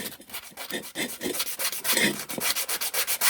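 Rust being scrubbed off a lawn mower wheel rim: rapid, rhythmic abrasive rubbing strokes, close and steady, continuing without pause for the whole stretch.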